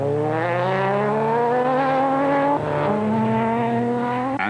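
A Nissan Navara off-road race truck drives hard in a South African off-road race, its engine note loud and close, rising steadily through the revs, dipping briefly at a gear change, then climbing again.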